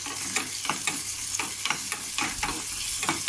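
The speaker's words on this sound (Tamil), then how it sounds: "சின்ன வெங்காயத்தை இதில் ஆட் பண்ணிக்கிட்டேன். இது கொஞ்சம் ப்ரௌன் ஆகிற அளவுக்கு நல்லா வதக்கிக்கலாம்." Small shallots sizzle and fry in oil with mustard seeds in a small kadai, a steady crackling hiss broken by regular stirring scrapes.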